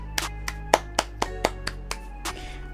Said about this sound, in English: So yeah, clap it up for Kiawe.